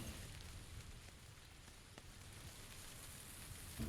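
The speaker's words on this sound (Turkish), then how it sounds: "Abi bugün sadece yağmurlu hava geliyor ya." A dense, even hiss of rainy weather on the Erangel map of PUBG, continuous and fairly faint with no talk.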